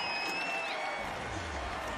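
A home crowd at a Denver Outlaws lacrosse game roars and claps in a fairly faint, steady wash, with whistle-like tones riding above it and a low rumble building partway through.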